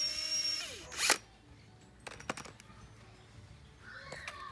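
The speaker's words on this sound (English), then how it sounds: "Ask your adult friend to drill a hole in the middle." A power drill boring a hole through a plastic bottle: a short high-pitched whine of the motor, then a few sharp clicks and rattles of the plastic, fairly quiet and close.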